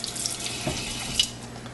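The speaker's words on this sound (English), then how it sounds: "Prepare the cheese by rinsing it underwater" A piece of cheese for saganaki is rinsed under a running kitchen tap, with a steady close splash and hiss of water that barely changes and has no talk over it.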